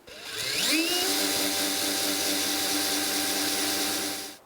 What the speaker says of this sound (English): I am going to drill 3 more holes down here.